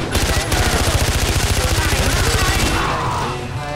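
Rapid automatic gunfire from a weapon in the video game Far Cry 4, a steady stream of loud, evenly spaced shots for about three seconds, then fading out.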